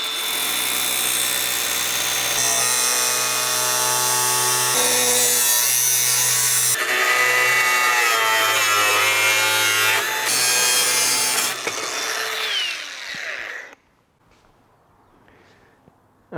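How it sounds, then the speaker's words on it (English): A power tool cuts down the front clip of a BMW being prepared for a V8 swap, giving a loud, close, grinding whine that shifts pitch in several stages for about thirteen seconds before stopping abruptly into quiet. "next, we've got to trim down this front clip"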